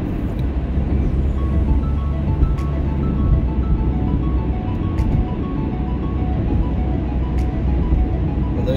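Steady road traffic on the 678 heading toward the Bronx on a December Monday morning, a continuous close rumble of engines and tires with faint higher tones and no talk.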